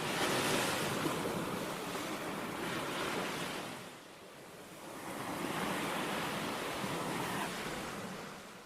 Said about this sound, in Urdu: سمندر کی ان لہروں کی آوازیں سنیں